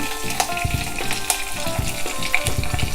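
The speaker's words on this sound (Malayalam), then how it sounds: "കടുക് പൊട്ടി തുടങ്ങിയിട്ടുണ്ട്." Mustard seeds and curry leaves crackle in hot oil: a constant sizzle dotted with sharp, irregular pops, close by and fairly loud.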